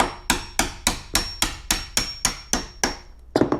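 A hammer held sideways taps out a door hinge pin in a quick, even series of about eleven sharp metal strikes, close and ringing, with the last few coming faster.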